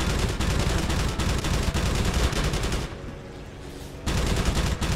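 Gunfire aimed at the player's plane in the Wings of Prey flight game: a dense, continuous rattle of shots that drops away briefly near the middle, then bursts back in loud and close.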